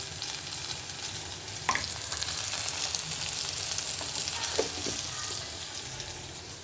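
Cumin, turmeric and onions fry in a pan as a soft, continuous sizzle, with a couple of brief utensil clinks or stirring knocks heard over the hiss.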